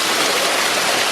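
Steady rushing water at a crossroads by a cave and a small bridge in Henry Doorly Zoo & Aquarium, Omaha, Nebraska, a dense, even hiss heard close up for about a second.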